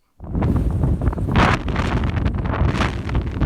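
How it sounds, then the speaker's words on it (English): Strong wind of almost 40 miles per hour blasts a microphone during an outdoor run, a loud buffeting roar that starts abruptly and surges in gusts, rumbling low and rushing throughout. "the winds were blowing at almost 40 miles per hour"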